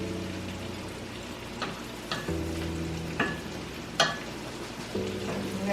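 Squash and onions sizzling steadily as they cook down in a pan for a Southern squash casserole, with occasional stirring clatters over the continuous fry, no talking.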